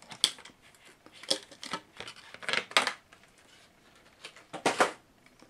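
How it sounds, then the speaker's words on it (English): Crinkly rustling and scraping of packaging in short, irregular bursts, close up, as a Bachmann Class 37 model locomotive is eased gently out of its box. "if we just take it out of the packaging very, very gently and lift it up"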